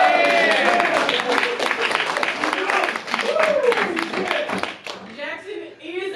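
An audience claps and cheers loudly, mixed with voices and laughter, then the noise dies down toward the end as speech takes over.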